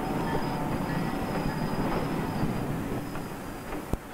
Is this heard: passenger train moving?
yes